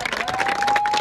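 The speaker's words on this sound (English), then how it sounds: "All right, clap up." Members of a high school football team clap up together in a huddle, a brief burst of applause-like claps that is close and fairly loud over crowd noise.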